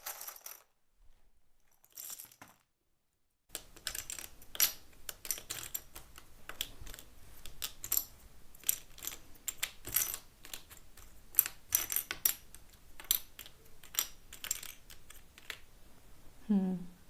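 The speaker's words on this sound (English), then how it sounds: "So I will shuffle some letters for you." Letter cards are shuffled for a tarot reading, a steady run of close, sharp clicking and flicking that follows a brief quiet gap near the start, with a low voice sound at the very end.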